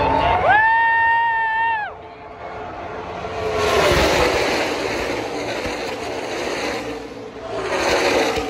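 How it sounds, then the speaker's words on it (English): At the Talladega NASCAR race, a broad, steady crowd roar blends with the rushing noise of the track, swelling and fading; a tonal voice-like sound rises briefly at the start. "you can hear the crowd in the background here at Talladega"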